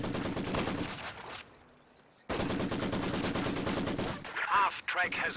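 A Maxim machine gun set up in a garrison in Company of Heroes 2 fires long, steady rattling bursts that break off for about a second, then resume, with other battle noise near the end.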